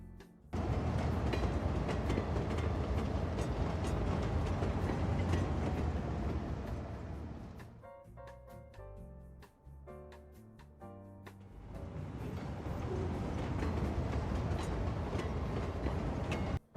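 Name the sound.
trains running in the video game Cities Skylines 2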